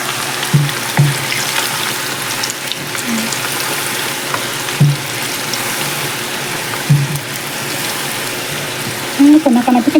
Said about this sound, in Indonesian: Oke, langsung kita goreng.